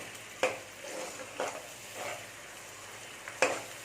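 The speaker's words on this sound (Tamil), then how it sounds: "நம்ம புளி தண்ணி ஊற்றிட்டோம் இல்லைங்களா இனிமேல் அது கொதிக்கிறதுக்கு கொஞ்சம் ஹையில் வச்சா சரியாக இருக்கும்" Tamarind water bubbling and sizzling as it boils in a pan over high heat, with a few sharp clinks of a utensil against the metal.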